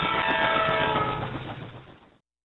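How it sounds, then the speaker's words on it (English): A train sound effect from a 2003 LeapFrog See and Learn Driver toy plays alone, a short bright electronic horn-and-rumble burst lasting about two seconds before cutting off abruptly. "Look, I see a train."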